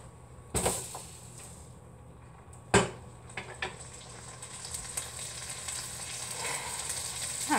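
Empanada filling sizzling gently in a pan on a low stovetop, a soft continuous crackle broken by a few sharp knocks and clatters nearby, with no talking.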